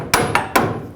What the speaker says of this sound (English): Now I'm going to put it back so I can hammer this stud out.